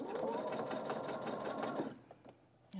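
Sewing machine stitching a quilt block, a steady close whir for about two seconds before stopping, followed by faint handling noises.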